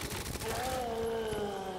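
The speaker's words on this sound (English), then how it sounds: "Should we have a go with a submachine gun?" A submachine gun fires rapid rattling bursts in Resident Evil 2, fairly close, with a tonal game sound sliding underneath during the short stretch.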